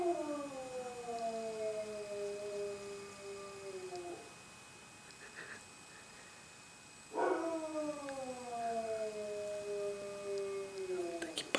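A dog howls long, wavering notes, two drawn-out howls separated by a quiet pause, fairly distant against a hushed night background.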